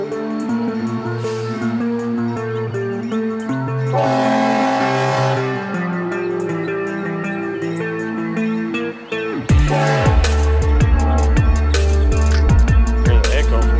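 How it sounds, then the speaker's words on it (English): Train near old silos sounding a long, loud multi-tone horn with echo, then its rumbling, clattering passage as cars roll by close at hand; no speech over it. "Oh, here comes the train."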